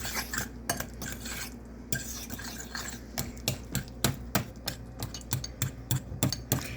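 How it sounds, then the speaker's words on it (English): A spoon scrapes and knocks rhythmically around a bowl while breakfast cookie batter with vanilla is stirred, a quick run of close clattering taps over a faint background hum. "So, stir it up here."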